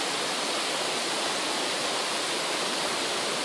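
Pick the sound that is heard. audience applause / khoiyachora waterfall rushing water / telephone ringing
khoiyachora waterfall rushing water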